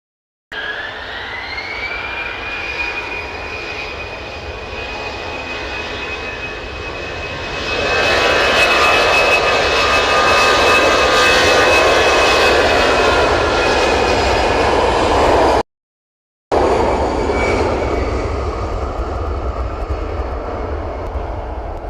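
Twin-propeller aircraft engines at Manchester Airport drone loudly and steadily, with a rising tonal whine early on that settles into a sustained pitch as the roar swells midway, close and continuous with a brief cut near the end.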